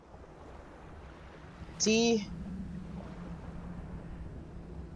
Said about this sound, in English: That is the sound of the sea.